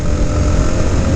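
A beginner's motorcycle ride, the engine droning steadily and loudly up close with a dense low rumble and constant wind noise, no talking.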